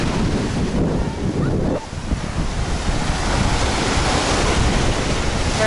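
Rough ocean surf at Miami Beach roars continuously close by, with heavy wind buffeting the microphone and no voices.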